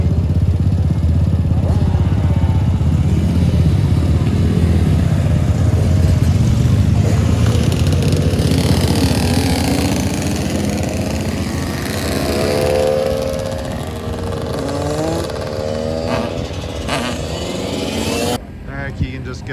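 A racing motorcycle engine at a summer race weekend revs and roars loudly, its pitch rising and falling as it passes, gradually fading toward the end, with people talking over it.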